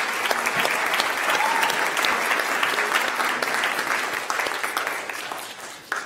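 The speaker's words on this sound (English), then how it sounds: "let's also get our hands going a little bit for our prelude musicians and our readers" A church congregation at a Christmas Eve service claps in sustained, dense applause that fills the room, slowly thinning toward the end.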